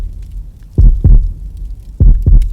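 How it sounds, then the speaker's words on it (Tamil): Low, thumping heartbeat from a thriller film, two double-beat pulses (lub-dub, pause, lub-dub) booming close and heavy over a faint hum, with no voices. "இது என்னன்னு தெரியுமா? உன் இதய துடிப்பு"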